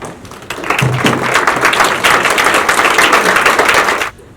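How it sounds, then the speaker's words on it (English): An audience at a library public-comment meeting stands and applauds, a fairly loud, steady patter of clapping that starts abruptly, holds for several seconds, then cuts off sharply, with a brief low murmur near the start. "I invite everyone now to stand up and show your appreciation and applause"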